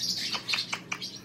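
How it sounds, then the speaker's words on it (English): A pet Hahn's macaw, a mini macaw, gives a run of short, bright chirping calls, four or five quick notes close to the listener with no talking. "Emerald is a mini macaw."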